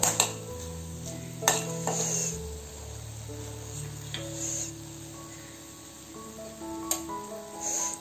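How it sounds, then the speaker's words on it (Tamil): Whole spices and a piece of cinnamon sauté in a pan for a variety rice dish. A steady soft sizzle runs under occasional utensil clinks and stirring, up close and without voices. "இது நல்லா வந்து வாசனை வர வரைக்கும் நம்ம நல்லா வதக்கிக்கலாம்."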